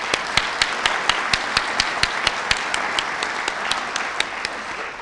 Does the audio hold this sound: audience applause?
yes